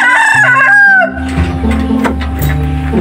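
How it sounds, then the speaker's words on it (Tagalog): A rooster crows loudly and close, one long rising-and-falling call, followed by hen clucking and farmyard fowl noises. "yung manok guys."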